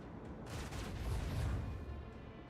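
Rapid gunfire from interceptor units in a Warhammer 40K video game, a dense continuous burst of shooting and booms swelling toward the middle and easing off, moderately loud with no voices.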